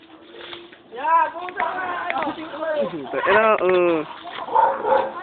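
A dog barks and yelps in a run of rising, strained calls, fairly close, over and between people talking.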